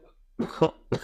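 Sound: cough

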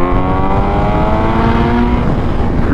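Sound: motorcycle with aftermarket exhaust cruising

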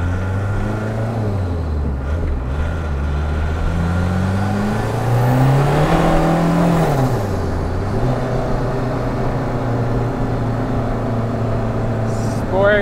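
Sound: VW turbodiesel accelerating, clutch slipping

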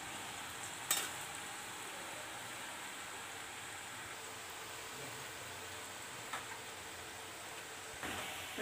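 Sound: murukku dough frying in hot oil

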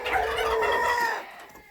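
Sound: chickens clucking

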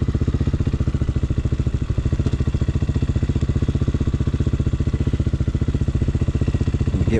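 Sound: street legal dirt bike riding, practicing micro U-turns

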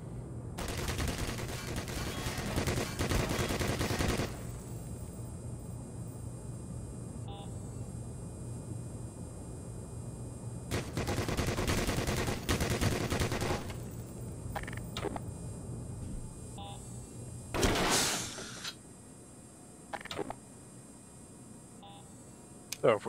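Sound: automated turret firing in the video game Black Mesa

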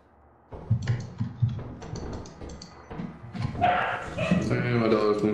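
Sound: dog barking

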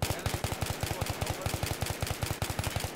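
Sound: gunfire in a video game

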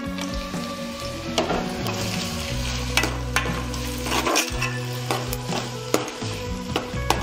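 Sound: onions and green chillies frying in a pan

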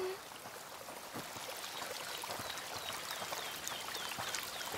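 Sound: spring water flowing in video game A Plague Tale: Requiem

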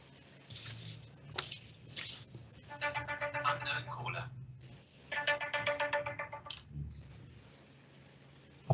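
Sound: phone ringtone from an unknown caller

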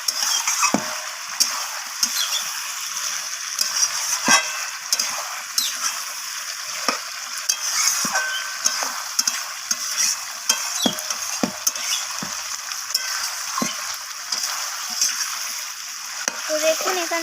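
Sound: sautéing chicken gizzard and liver masala with potatoes in a pan

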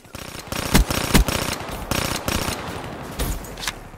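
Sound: burst SMG gunfire in Black Ops 3 video game

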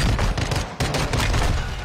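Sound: sniper gunshot in video game

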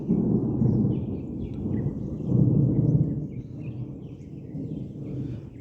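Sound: thunder rumbling

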